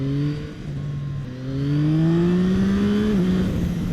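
A Yamaha MT-09 motorcycle engine rises and falls through gears as it is ridden, a loud, close, tonal drone whose pitch climbs, dips briefly and climbs again with no talking.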